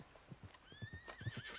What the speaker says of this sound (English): you're gonna call your horse over.